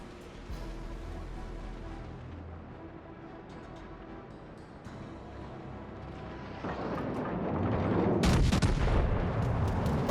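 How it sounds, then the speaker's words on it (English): Heavy naval guns of the battleship Gneisenau fire in the World of Warships Legends video game, a deep rumbling barrage that swells into a loud blast near the end over a low continuous background. "Big shots taken from that Gneisenau."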